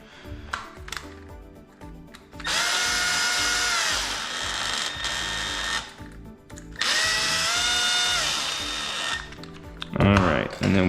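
A power tool drives bolts into an Arrma RC car differential cover in two long, close whirring bursts, each a few seconds long, with brief handling clicks before and after.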